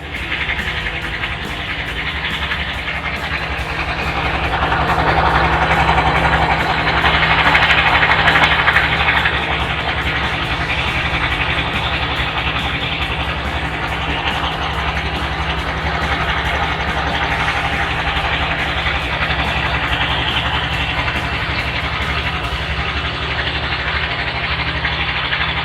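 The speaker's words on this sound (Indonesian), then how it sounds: "untuk suara mesinnya juga masih halus sekali karena ini masih motor baru ya" A 2020 Honda Beat CBS FI eSP automatic scooter, new and well maintained, idles with a smooth, steady engine hum that holds evenly throughout, swelling slightly early on, with no voices.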